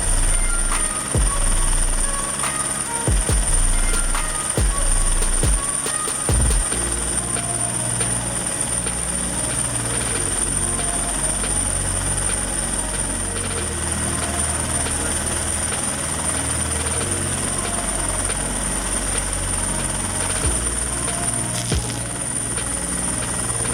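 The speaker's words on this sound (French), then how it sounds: "imagine le défi pour le pilote qui essaie de maintenir l'hélicoptère stable pendant tout ce temps" A helicopter hovers close to high-voltage power lines, its steady rotor beat and turbine whine droning loud and constant throughout, with a few sharper thumps near the start.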